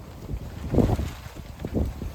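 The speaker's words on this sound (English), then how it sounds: "when it gets a little too windy" Gusty wind blows around a backyard chicken coop on a cold day, buffeting the microphone in low, rumbling surges that rise and fall twice in quick succession.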